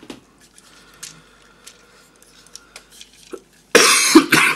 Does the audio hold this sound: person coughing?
yes